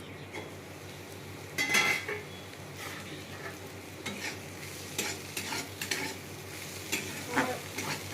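Bitter gourd and pointed gourd frying with onion in a pan, a soft steady sizzle broken by several bursts of stirring and utensil scrapes against the pan, close and moderately quiet.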